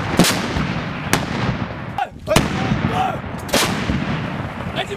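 M777 howitzer artillery booming repeatedly during live fire training by Marines in Australia's Northern Territory, several sharp loud blasts spaced about a second apart over steady background noise, with shouted voices nearby.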